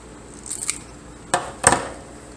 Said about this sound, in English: I'm going to cut these wires a little shorter.